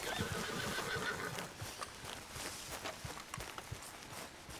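Horse in the video game Red Dead Redemption 2 whinnies loudly near the start, followed by a steady run of hoof clops and footsteps continuing through the rest.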